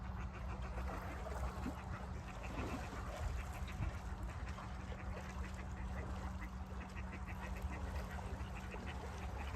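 Ducks quacking by a canal in brown moulting plumage, a steady murmur of calls mixed into constant low background rumble and hum, fairly distant rather than close.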